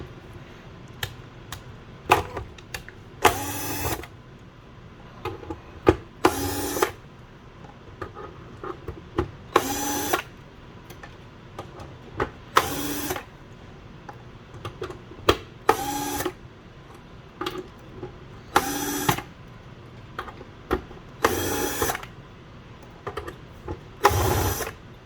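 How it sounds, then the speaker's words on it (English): A torque driver works tight screws out of the lid of a force plate, with repeated short ratcheting clicks and periodic louder grinding bursts at a steady rhythm, close up. "Grab your torque driver. You're going to want to turn it up to the maximum torque because these screws are very tight in"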